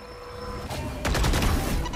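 Rapid gunfire bursts in the Valorant tactical shooter, a sharp volley starting near the middle and continuing in dense, loud cracks to the end.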